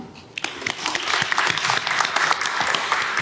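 An audience applauds after a presentation at a disaster-safety research seminar, a dense burst of clapping that starts abruptly and holds steady close by.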